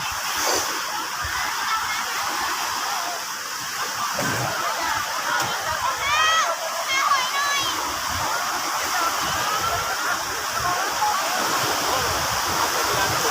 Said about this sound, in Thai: น้ำทะเลสดๆพี่น้องเอ๋ย